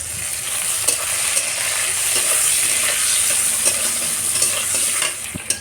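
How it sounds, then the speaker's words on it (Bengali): Constant loud sizzling of eggplant frying in hot oil, close up, with a few faint clicks of a utensil against the pan. "বেগুনের মধ্যে সামান্য একটু নুন দিয়ে ভাজবো"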